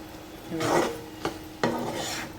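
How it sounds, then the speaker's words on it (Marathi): A spoon scrapes and stirs puran poli premix ingredients in a pan on the stove, a few gritty rasping strokes with sharp taps against the pan, close and without talk. "हे असं सगळं मिक्स करून घ्यायचं"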